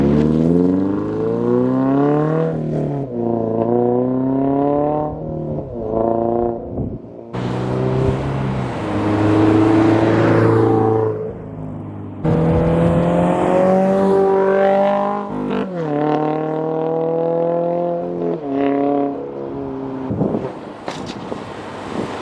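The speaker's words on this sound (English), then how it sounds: "we'll do a little bit of drive-bys right here." A 2022 Subaru BRZ with a new catback exhaust and stock headers makes several drive-bys, its engine note rising and falling in pitch as it revs through gears, loud and close, with wind buffeting the microphone.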